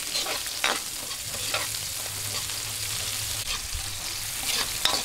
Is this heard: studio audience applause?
no